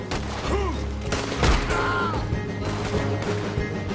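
Gunfire in Red Dead Redemption 2, with repeated shots and booming blasts across a loud shootout, layered over a rumbling game score and action noise.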